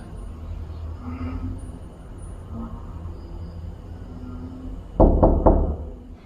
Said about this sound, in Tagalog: kailangan kumatok ka muna bago buksan